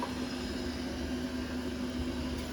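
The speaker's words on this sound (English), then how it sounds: "Oh my god, the Roomba! The Roomba came from under me!" A Roomba robot vacuum runs close by with a steady, unbroken motor whir, a faint hum underneath and a broad brushing hiss, with no voices.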